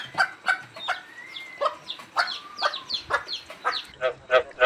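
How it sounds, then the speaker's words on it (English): A hen clucks in a steady run of short, repeated calls, fairly close and clear, with no other sounds. "hen"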